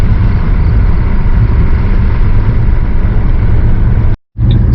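A Ford Mustang with a 4.0 V6 and an idle chop mod rumbles loudly and steadily from the cabin while driving on the road, a dense low drone that cuts out abruptly for a moment near the end.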